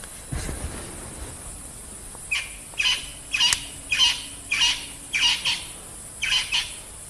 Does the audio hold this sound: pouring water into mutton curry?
no